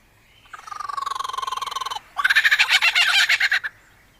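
A lyrebird mimics a kookaburra's laughing call: a rapid pulsed chuckle lasting about a second and a half, then a brief gap and a louder, harsher burst of cackling notes, close and clear with no talking.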